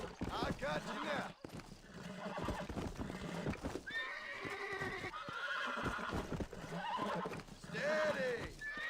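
Horse whinnies and snorts with hoof clip-clop in the Red Dead Redemption video game, several neighs rising over a busy game soundscape while a voice talks throughout.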